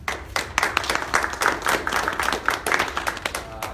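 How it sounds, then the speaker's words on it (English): A meetup audience in the Beatty-Ford branch of the Charlotte Mecklenburg Library gives a quick round of applause: many hands clapping densely and steadily at close range for about four seconds. "So if we can do a quick round of applause for them."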